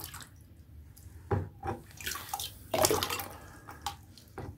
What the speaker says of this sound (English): rinse it into the bucket now